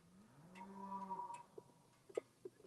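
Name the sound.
cows mooing on a farm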